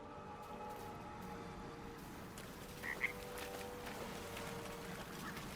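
A frog croaks briefly in Baldur's Gate 3, a couple of short clustered calls near the middle, faint over a steady ambient bed of water and night noise with no talking.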